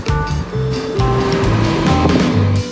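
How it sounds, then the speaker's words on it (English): Engine noise and water wash fill a boat ride on a river as another boat approaches, with a steady loud drone and rushing water throughout. "I got a boat coming"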